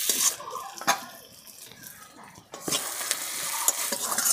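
Ginger-garlic paste with turmeric and chili powder fries in a pan. Loud sizzling bursts come with sharp utensil scrapes and knocks, dip to a quieter crackle, then rise again into a strong sizzle.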